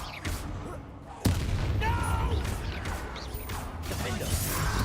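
A fire spell cast in Hogwarts Legacy bursts out with a sudden loud whoosh and crackling rush amid game effects and combat noise.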